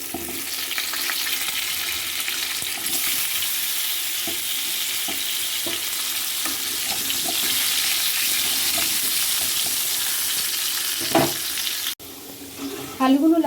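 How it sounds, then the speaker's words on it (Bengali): Cut potatoes fry in hot oil left over from shrimp for Bengali potol chingri, giving a steady, close, loud sizzle throughout with a few stirring scrapes and a brief clatter near the end. "ওই তেলেই দিয়ে দিচ্ছি কেটে রাখা আলু। এবার আলুগুলো ভেজে নেব।"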